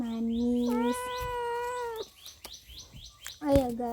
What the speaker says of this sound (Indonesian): Ini tuh ada suara kucing aku, dia tuh mendatangi aku dan ngeong-ngeong di samping aku.